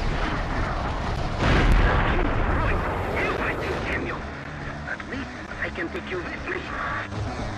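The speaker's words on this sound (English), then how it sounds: "Okay, so we blew up the little generator thing here." A generator blows up in the video game Future Cop: L.A.P.D., giving a heavy booming blast that swells and then decays into rumbling debris and scattered crackles, loud and close, with someone talking over it.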